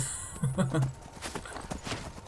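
Horse hooves clip-clop in Skyrim as the mount jumps, a few quick thuds over game ambience while someone talks and laughs.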